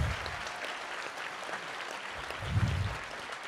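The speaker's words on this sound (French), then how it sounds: "C'est eux qu'il faut applaudir" Audience applause at a hackfest closing ceremony, a steady wash of clapping from a crowd that swells briefly near the end, with faint voices beneath.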